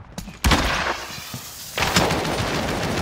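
Automatic gunfire in Call of Duty: Modern Warfare, loud close bursts of rapid shots with a brief lull, then a renewed sustained volley; a faint voice briefly underneath.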